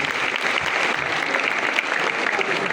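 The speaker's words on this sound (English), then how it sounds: "Please shall we clap for the school authorities this morning?" A school audience at a college tourism club gathering claps steadily for the school authorities, a dense continuous wash of applause with no break and no voices standing out.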